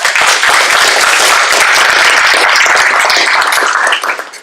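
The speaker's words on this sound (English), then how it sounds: "So, let's give them a round of applause." Loud, close applause from the audience at a neighborhood council general stakeholders meeting, honoring board members, a dense burst of many hands clapping continuously before trailing off in the last half second.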